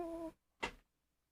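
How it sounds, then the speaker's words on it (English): A cat gives a single short, faint meow in a quiet room, followed by a brief soft rustle and then silence. "Oh, hey, kitty."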